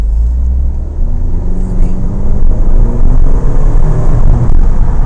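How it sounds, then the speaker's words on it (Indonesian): Mini Cooper S Coupe R58 fitted with an aftermarket exhaust: a close, deep steady engine burble with low rumble, swelling slightly midway as the car runs, loud and alone without talk. "kira-kira begitulah bunyi knalpot borlanya"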